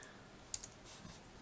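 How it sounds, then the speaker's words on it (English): A few quiet keystrokes on a computer keyboard, two quick clicks followed by fainter taps, heard close but soft over a low room hiss with no talking. "I'm going to just type in"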